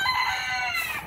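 Chickens crowd around a bowl of special food and give a single sustained, harmonic call lasting about a second, close and clear over a low rumble of background noise.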